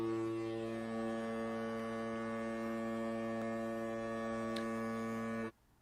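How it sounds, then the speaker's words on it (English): San Francisco 49ers foghorn sound effect, a long steady deep horn blast held for several seconds at moderate level before cutting off abruptly. "Got the 49er foghorn."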